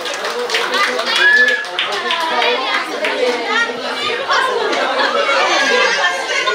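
Wedding guests break into lively clapping up close, with chatter and children's voices mixed into the celebration.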